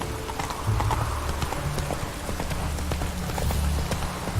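Roach, Geralt's horse in The Witcher 3, gallops with steady, loud clip-clop hoofbeats that run through the whole stretch, and a brief whinny sits among them.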